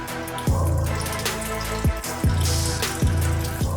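Cleaning alcohol pours and drains out of a freshly resin-printed Jigglypuff figure lifted from a wash container, a steady close trickle of liquid with splashy, tap-like running water and a few rhythmic thuds.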